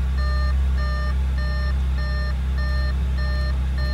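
Repeating electronic warning beeps from an Audi S5 with airbag fault codes, about seven evenly spaced chimes, over a steady low engine or electrical hum.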